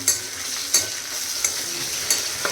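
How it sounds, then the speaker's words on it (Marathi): Homemade ginger garlic paste sautéing with onion in a hot pan, a steady close sizzle with a few sharp spatula stirs and scrapes at regular intervals, no talking. "अद्रक लसूण पेस्ट मी थोडीशी ॲड केली आहे आणि त्यानंतर ती सुद्धा छान अशी परतून घ्यायची आहे"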